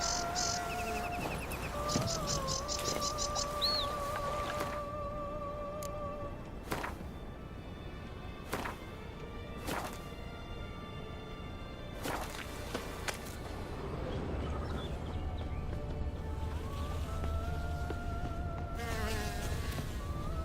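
Flies buzz along a shoreline in The Witcher, a faint, thin drone under quiet ambient game sound, with scattered footsteps and brief clicks.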